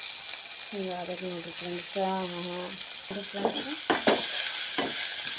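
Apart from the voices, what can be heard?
tomato mixture frying in a pan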